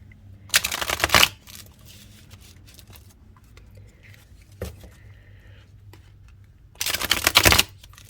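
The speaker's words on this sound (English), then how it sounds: "It does do a back shuffle." Two bursts of cards being riffled and shuffled, close and crisp, separated by a quiet stretch with a soft click in between.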